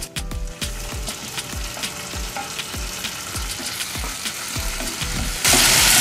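Chopped tomatoes and shallots sauté in a hot pan for a Tamil soya chunk salna, giving a steady close sizzle with repeated scraping stir strokes and a louder hiss burst near the end.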